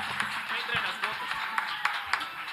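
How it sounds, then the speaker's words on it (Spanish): A concert audience at a Bolivian university tuna performance gives moderate, steady applause, with scattered sharper claps standing out over a dense background of clapping. "Así que un aplauso, por favor, para la universidad."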